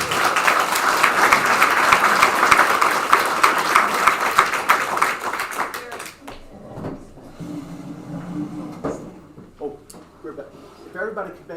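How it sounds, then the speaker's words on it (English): A lake restoration meeting audience applauds a guest speaker, a crowd of hands clapping steadily for several seconds before it stops abruptly, followed by scattered room noises and a voice speaking. "everybody give her a round of applause"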